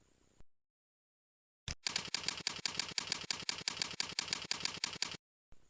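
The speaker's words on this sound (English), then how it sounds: "Type the URL." Rapid keystrokes typing a web address on a computer keyboard, a steady fast run of close, clicky taps lasting a few seconds, with silence before and after.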